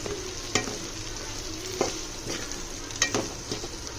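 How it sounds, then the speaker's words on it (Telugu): Gravy of tamarind juice sizzling and simmering in a frying pan, with a steady close hiss and a few sharp clinks and stirring knocks spaced through it. "ఇప్పుడు వేగింది కదా ఇప్పుడు ఇలా చిత్తపులుసు పోసుకున్నాం మనం"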